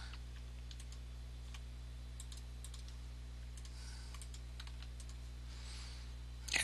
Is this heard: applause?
no